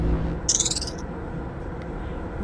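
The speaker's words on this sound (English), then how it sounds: "We heard the bird sound again" A bird call in the video game Myst, a short, clear chirping trill heard once over a dull, steady ambient hum.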